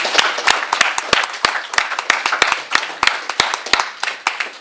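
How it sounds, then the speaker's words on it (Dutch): A small crowd claps together, quick uneven hand claps in a lively burst of applause, close and fairly loud. "Ik klap met jullie mee."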